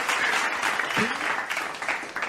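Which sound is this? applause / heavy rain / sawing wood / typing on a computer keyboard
applause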